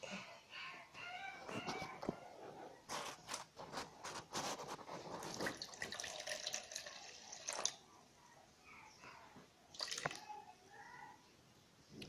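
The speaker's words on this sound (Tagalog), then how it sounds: "magme-measure po ako ng 98 grams na tubig" Water poured into a container on a scale for a lye solution runs and splashes in a faint, uneven stream, with scattered clinks and drips in a quiet room.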